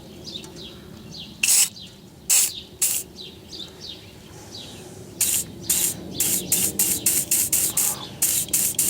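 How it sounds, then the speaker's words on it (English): Short bursts of WD-40 sprayed from an aerosol can onto a bolt of a BMW ABS sensor: a few separate hisses, then a rapid run of quick spurts, with birds chirping in the background. "I'm going to try and loosen that with a little bit of WD-40."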